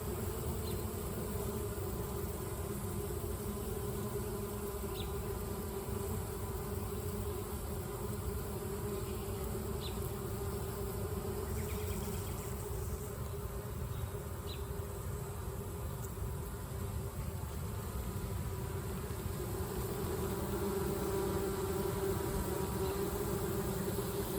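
Honeybees buzz around a busy beehive, a soft continuous hum with a few brief sharper passes of single bees, faint and steady throughout without speech.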